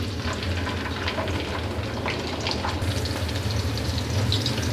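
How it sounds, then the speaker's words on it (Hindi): Two medium onions, sliced, frying in a cup of hot oil in a pot on a kitchen stove for chana pulao, a steady dense sizzling hiss that continues evenly throughout. "जी तो प्याज को हम उस वक्त तक फ्राई करेंगे जब तक इसका अच्छा सा कलर ना आ जाए"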